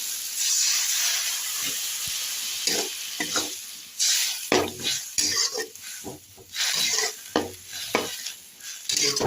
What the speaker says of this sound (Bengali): আলু ফুলকপি ভাজাই আছে, এর মধ্যে আমি একটু জল দিয়ে দেবো